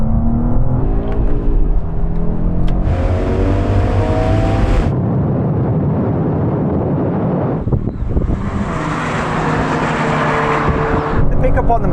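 A drag race between a BMW M2 Competition, Audi RS3, Mercedes-AMG A45S and Porsche 718 Boxster GTS, with engines droning and rising in pitch through gear changes under heavy wind buffeting that comes and goes in bursts.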